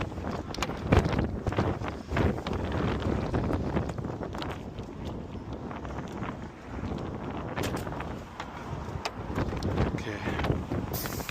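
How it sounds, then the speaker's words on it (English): Strong wind gusts buffet the microphone outdoors at a roadside car lockout, loud broadband rushing and thumping that rises and falls across the whole stretch with no speech. "I wonder why it's so windy"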